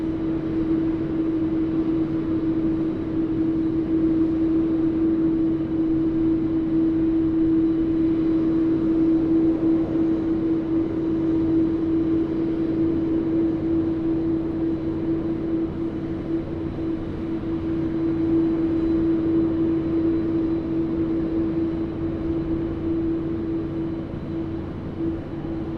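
A jet airliner roars steadily as it comes in to land on runway 16 right at Sydney Airport, a sustained loud engine drone with a constant tone.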